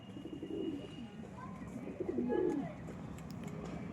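A pigeon gives a few soft, low coos up close, faint and intermittent against a quiet background.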